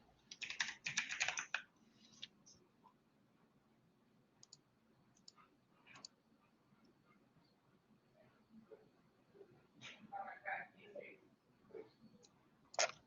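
A password is tapped out on a computer keyboard in quick bursts of close keystrokes with pauses between, alongside mouse clicks, while a person talks intermittently.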